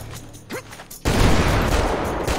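Gunfire in GTA 5 aimed at airborne sticky bombs: a couple of quiet earlier sounds, then a sudden loud burst of shots that settles into a dense, sustained roar through the rest of the moment.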